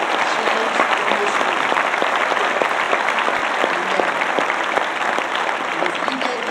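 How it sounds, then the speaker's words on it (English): A church congregation claps together during a Sunday morning service, dense sustained applause filling the room at steady loudness throughout. "Can we just clap our hands and celebrate the lives of change in this"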